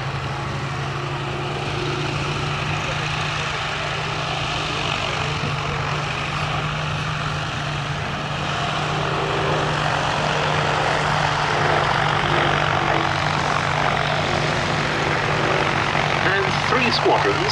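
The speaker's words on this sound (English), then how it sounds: "a more powerful version of the glorious-sounding Rolls-Royce Kestrel engine" A Hawker Nimrod Mk.1 biplane's Rolls-Royce Kestrel engine drones steadily and loudly throughout at an airshow, a smooth, sustained mechanical roar that swells slightly toward the end.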